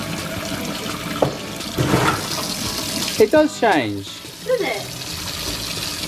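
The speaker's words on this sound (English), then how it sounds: "when you put hot water on it" Hot water poured and splashing onto a colour-changing toy plane from a returns pallet, a short running-water burst between close children's voices talking over it.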